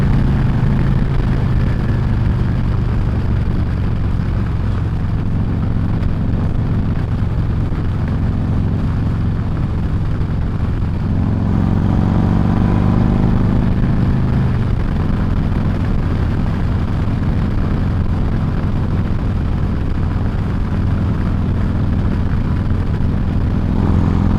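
2024 Harley-Davidson Road Glide with a Screamin' Eagle 131 Stage 4 engine, riding in sport mode, drones steadily and loudly throughout, with wind rush and a surge in revs around the middle.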